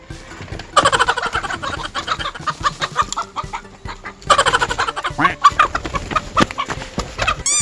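Chickens cluck busily and repeatedly throughout, close by and fairly loud, with scuffling and movement noises as people chase them around a coop; bursts of clucking rise and fall in waves.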